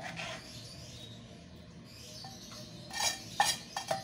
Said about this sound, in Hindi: अब नमक डाल के हम इसको थोड़ा सा मिक्स कर देंगे ताकि जो नमक ऊपर ऊपर है वो सब चीज़ों में मिक्स हो जाए